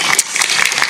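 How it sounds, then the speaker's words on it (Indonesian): An audience at a religious gathering in an Islamic boarding school breaks into brisk, dense applause, loud and close, a continuous patter of many hands clapping. "Tepuk tangan tuh Pak Polisi."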